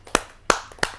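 Three slow, separate hand claps, near and fairly crisp, as a gathering welcomes a poet from Raigarh at a kavi sammelan.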